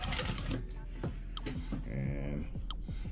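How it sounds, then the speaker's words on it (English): Atlas sewing machine stitching carpet for a classic vehicle: rapid rhythmic mechanical clatter of the needle running throughout, loud and close, with someone talking over it. "I bought this sewing machine"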